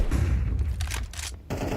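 A handful of gunshots exchanged during a Counter-Strike 2 tournament round, several separate cracks and thuds in quick succession over a low background rumble.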